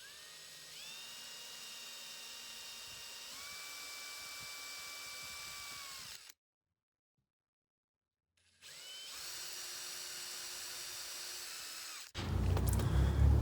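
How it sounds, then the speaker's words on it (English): A power drill whines steadily through two long runs drilling holes in a storm door, pitch sagging as it bites in, separated by a brief silence, with a louder clatter at the end. "I'm going to get these holes drilled."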